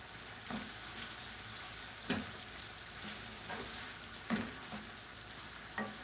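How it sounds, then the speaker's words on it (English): Food frying in a pan and being stirred, a steady sizzle with a spoon scraping and clacking against the pan every second or so, close but fairly quiet. "Just stir, just make sure you stir properly."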